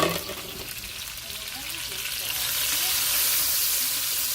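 Onion for chicken cacciatore hits a hot pan with browned fond, giving a steady broadband sizzle that grows slightly louder and fuller, with a voice talking nearby.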